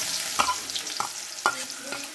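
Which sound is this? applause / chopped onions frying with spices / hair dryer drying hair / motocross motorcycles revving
chopped onions frying with spices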